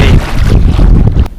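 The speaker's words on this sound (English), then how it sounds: "Bloody wind drives me insane." Strong wind buffets the microphone while kayak fishing on open water, a loud, continuous low roar and rumble with no talking.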